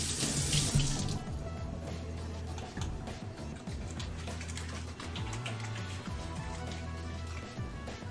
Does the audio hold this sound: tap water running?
yes